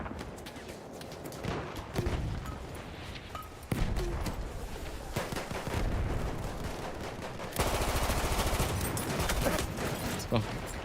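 Rapid bursts of machine gun fire in the Battlefield 1 video game crackle repeatedly over about ten seconds, with a denser, louder barrage in the last few seconds.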